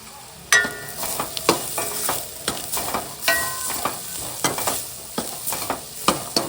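Green beans with salt sautéing in a pan, a constant sizzle punctuated by a regular run of sharp spatula scrapes and knocks against the pan, close and distinct, with no talking.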